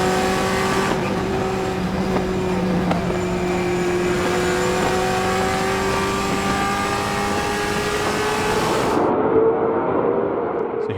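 Ford Mustang TA2 race car at World Wide Technology Raceway, its V8 screaming at high revs in a sustained loud wail with rising pitch through gears as it passes, then cutting off abruptly near the end.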